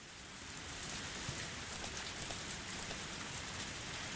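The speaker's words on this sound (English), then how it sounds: "I waited for God to do something while the rain poured down on me." Steady rain pours down in the visual novel Higurashi When They Cry, a soft, even hiss of falling drops that swells slightly at the start and then holds at a quiet, constant level.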